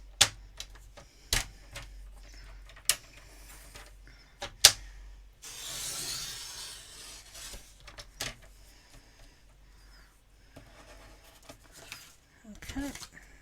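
A paper trimmer slices cardstock for a handmade die-cut birthday card: sharp clicks and taps from the trimmer, then a smooth sliding swish of the blade cutting through, close and moderately loud.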